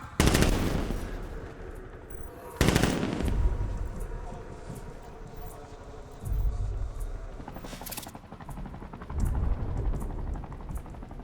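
Heavy gunfire in the Batman: Arkham Knight video game: loud bursts of automatic fire recurring every couple of seconds, with booming impacts and rumbling game ambience between them, no talk.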